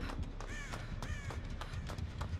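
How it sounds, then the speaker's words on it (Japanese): Crows caw repeatedly in the horror video game Dead by Daylight, several rasping calls in steady succession over a dense, noisy game background. "鳥ですか。"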